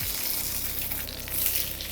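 Chicken pieces sear and sizzle in a hot pan while oyakodon is being made, a steady close frying hiss that keeps going with no break.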